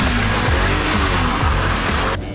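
Sports car with an SMG automated gearbox driving hard, its loud engine note steady and close with brief dips at gear changes, then cutting off abruptly near the end.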